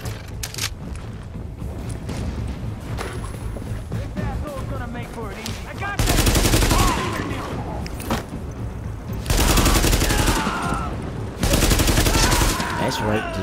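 Bursts of automatic gunfire in The Division video game, set in the Flatiron District, with sustained loud volleys and heavier surges alongside game voice alerts.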